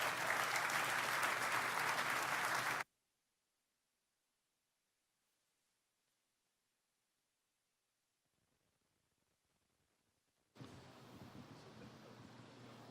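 A crowd at the groundbreaking ceremony for an electric carmaker's plant in Chatham County claps loudly. The applause breaks off into silence and then returns strongly.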